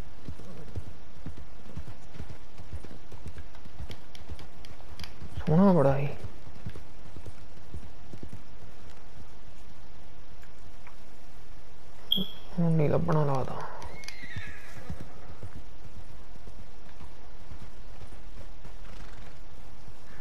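Horses gallop in the video game Red Dead Redemption 2, with a continuous rapid clip-clop of hooves running through the whole passage and two brief neighs partway along, while someone talks over it.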